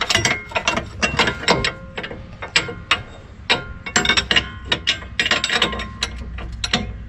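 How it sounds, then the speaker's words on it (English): A 7/8 wrench ratcheting on a track bar bolt, quick clicking strokes in irregular bursts with metallic clinks, close and clear with no talk. "let's get a 7/8 wrench here"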